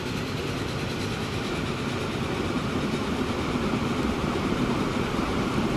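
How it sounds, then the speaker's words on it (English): Big Boy 4-8-8-4 steam locomotive hauling an oil train in the Transport Fever video game, a steady loud rumbling roar of engine and rolling wagons with no speech. "It's a pre-war train, this is."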